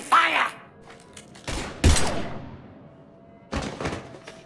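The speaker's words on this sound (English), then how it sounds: "Now open fire!" Gunfire in the video game Mass Effect 3, with an M-11 Suppressor pistol in a hardcore playthrough: a few heavy thudding shots spaced apart over quiet background, loud and close.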